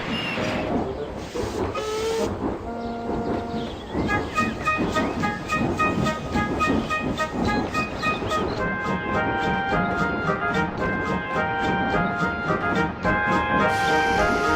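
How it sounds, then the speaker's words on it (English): A narrow-gauge steam engine train puffs through a station, with rhythmic chuffing, hissing steam and high whistle-like tones building into a dense, sustained clatter, heard fairly close. "Puffing his way through the middle station, Skarloey and Peter Sam heard a strange nois"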